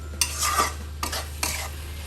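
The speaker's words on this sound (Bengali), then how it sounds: "এখন আমি নাড়াচাড়া দিয়ে চুলা বন্ধ করে আপনাদের পরিবেশন করে দেখাবো টক মিষ্টি চালতার আচার" Sweet and sour elephant apple (chalta) pickle is stirred in a pan over a low steady hum, with three short scraping sweeps of a spoon against the pan, close by.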